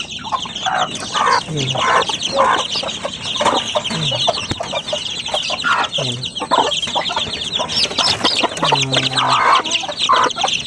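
Pet chickens clucking close by, repeated busy clucks and short calls from several birds overlapping continuously over a farmyard background.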